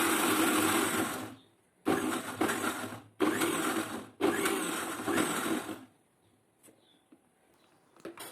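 A mixer grinder pulses egg mayonnaise in four loud whirring bursts with brief pauses between them, then the motor stops and only faint background noise remains.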